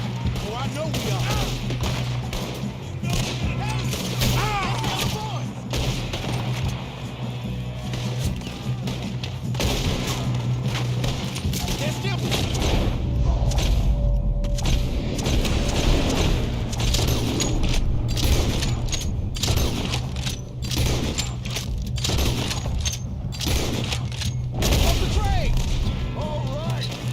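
Gunfire in the Red Dead Redemption 2 video game: repeated sharp shots and bursts scattered throughout a long firefight, mixed with game music and characters talking in between.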